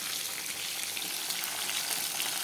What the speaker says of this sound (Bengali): এখন মাছ ভাজতে বসিয়েছি।